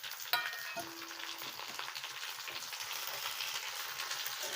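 Onions sautéing in a pan as cut drumsticks are added: a steady, close frying sizzle with a single sharp knock near the start and a constant crackle throughout.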